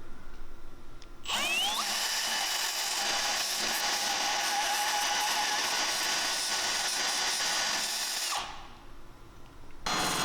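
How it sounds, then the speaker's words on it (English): Electric drill spinning a sanding drum against the curved top section of a Tacoma stump bumper: a loud, steady whine starts abruptly, holds for about seven seconds with slight pitch wavers, then drops off, followed by brief quiet. "It's helpful to use a sanding drum on an electric drill to clean up the curve section at the top of the bumper here."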